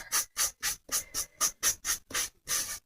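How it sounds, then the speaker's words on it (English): A sanding block scrapes back and forth, rubbing away a coating, in about ten steady, evenly spaced rasping strokes, close and fairly quiet. "This is just a sanding block."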